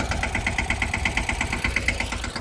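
A tractor engine idles nearby with a steady, rapid chugging knock, a loud and even rumble with no voices.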